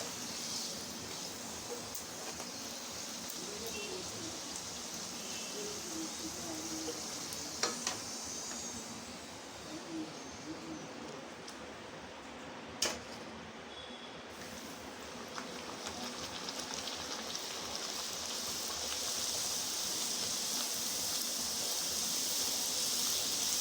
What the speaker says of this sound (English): You have to fry them one by one.